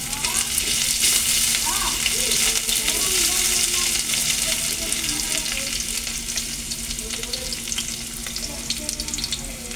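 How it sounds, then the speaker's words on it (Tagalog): Garlic sizzles and fries steadily in a hot pan for ginataan, a dense continuous crackle with occasional stirring scrapes, close and fairly loud throughout with no talking. "Lagay na natin ang bawang."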